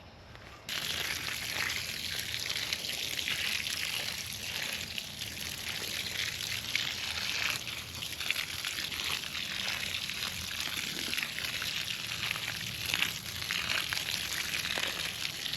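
Water pours steadily onto garden mulch spread over clay soil, a continuous close splashing and trickling wash that runs without a break.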